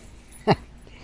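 A dog gives a single short whimpering yelp while chasing yellow jackets around a yard, one brief near sound over a quiet background.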